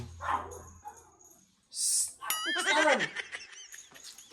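A dog barks and yelps a few times in quick succession, nearby and fairly loud, after a short stretch of quieter background noise.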